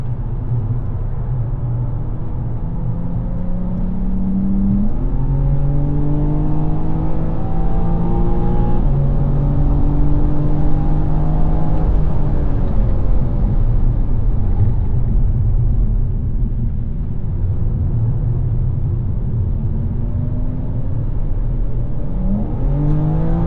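A BMW M4 GT4 race car engine accelerating hard on a racetrack, with rising and falling harmonic sweeps as it revs up through gears, loud and continuous with no talk.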